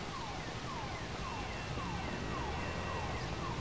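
A wailing police-style siren from the game GTA 5 rises and falls in repeated sweeps, faint and steady beneath a dense wash of background noise, with no talking.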